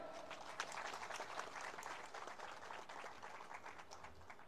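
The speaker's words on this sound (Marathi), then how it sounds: "आपण टाळ्या वाजवून स्वागत करा." Audience applause welcomes students at a Vidya Bharati annual-issue release ceremony in Akola: a steady, faint wash of many hands clapping for the whole stretch, with no voices.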